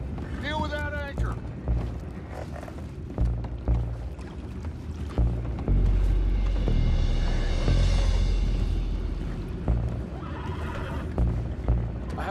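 A horse in the video game Red Dead Redemption 2 whinnies loudly near the start, amid splashing, hoof and creaking noises, with further rough neighs later over busy background commotion.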